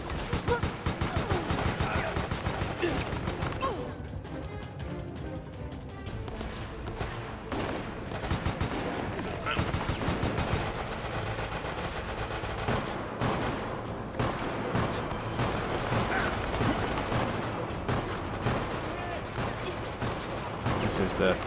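Sustained gunfire in the Resident Evil: Operation Raccoon City video game on PS3, dense rapid shots and bursts running almost continuously at high volume, with a player talking over the action.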